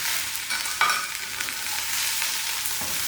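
Sliced onion and green chilies fry in a hot pan with salt, a steady close sizzle with a few scraping stirs of a spatula across the surface, continuous and fairly loud throughout.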